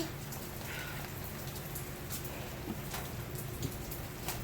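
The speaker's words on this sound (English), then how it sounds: "Florida just loves the rain." Steady rain pattering on a surface in Florida, a continuous soft hiss with occasional louder drops nearby and no voices.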